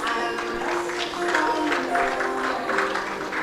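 A group claps in rhythm along to a song played at a cake-cutting celebration, with the steady claps sitting over music and a lively room.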